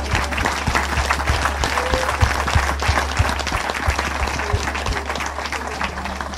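A church congregation breaks into steady, dense applause. It sounds full and sustained throughout, with no voice over it.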